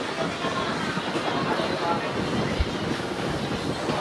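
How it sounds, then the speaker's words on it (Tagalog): Steady broadband rushing of sea waves mixed with wind buffeting the microphone at Mindoro in the Philippines, continuous and fairly loud, with no clear breaks or voices. "Parang maalon, no?"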